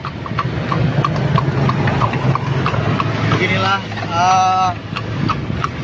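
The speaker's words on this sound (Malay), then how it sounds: "kita sudah naik delman ini kuda" A delman horse-drawn carriage on a night street in Lhokseumawe, with steady, evenly paced hoof clip-clops over engine hum and street noise while people talk throughout.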